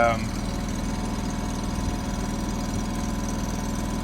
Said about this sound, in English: you can hear it charges at idle, which is just phenomenal